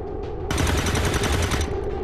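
Overwatch gunfire in the video game XCOM 2 erupts as a sudden loud burst of rapid shots, sustained for about a second and a half before trailing off, with no talk over it.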